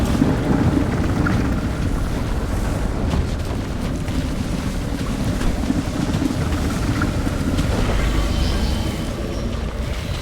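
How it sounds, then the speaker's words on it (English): Stormy squall in the video game Pacific Drive: a continuous loud roar of wind and rain with deep rumbling underneath, steady for the whole stretch, with no speech. "Oh, that's why we got a storm, a squall."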